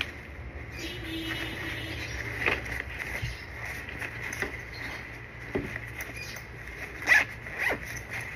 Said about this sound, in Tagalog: So yung zipper, yung slider is YKK.